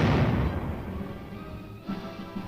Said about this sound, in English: the tanks continue their heavy bombardment.